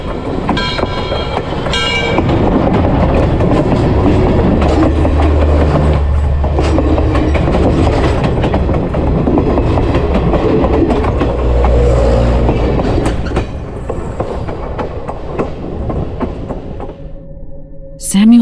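A train rolls past loud and close with rumbling wheels and rhythmic clickety-clack on the rails, building then easing for about twelve seconds before fading and ending on a short horn-like tone, staged as a ghostly horror-story sound effect.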